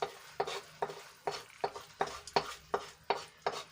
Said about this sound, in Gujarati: તો આપણે બધું સરસ રીતે મિક્સ કરી લઈશું, મમરા અને ગોળ।